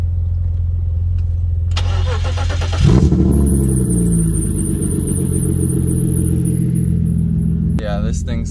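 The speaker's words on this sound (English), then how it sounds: "I went ahead and cut the muffler off just to see what it would be like." A BMW E36 engine with the muffler cut off cranks, catches and settles into a loud, raspy idle with a high whine above it. It is close and steady throughout.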